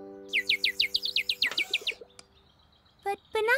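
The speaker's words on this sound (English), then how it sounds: "The little bird! It came back!" Small bird chirping in a fast run of about a dozen bright, evenly spaced tweets, then a pause and a few more close calls near the end, with no talk.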